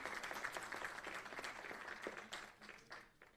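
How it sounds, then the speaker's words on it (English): A crowd at a live stage event in Chandigarh applauds steadily, a dense patter of many clapping hands that swells and then tapers off, moderately loud, with no talk over it. "Your round of claps will keep the show alive."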